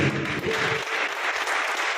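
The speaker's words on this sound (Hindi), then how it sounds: "तो संस्था के लिए एक कदम ध्वनि से ताली बजनी चाहिए।" An audience applauds at a Mahavir Intercontinental Service Organization ceremony in Bikaner, a continuous dense clapping that stays loud for two seconds, with low background hum fading after the first moment.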